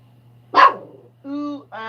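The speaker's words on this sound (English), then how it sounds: "Mocha, who are you barking at?" A dog barks indoors near an open door: one sharp, loud bark stands alone, followed by two shorter, tonal yips or whines close by over a low, steady hum.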